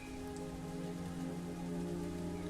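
Rain falls steadily in a Hindi devotional cartoon story, a soft, even patter heard faintly and continuously with no talking.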